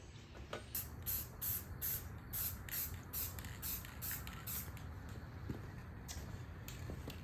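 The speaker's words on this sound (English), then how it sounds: "give it a quick spray paint job and be done with it." Spray paint going on a small bracket fabricated from scrap steel for a KDX250 odometer, applied in light even coats. Short bursts of hissing spray repeat in a quick rhythm over a low background rumble, with no voices.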